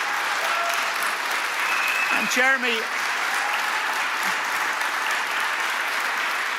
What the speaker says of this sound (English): Could we stand, please, just to acknowledge him and give a clap?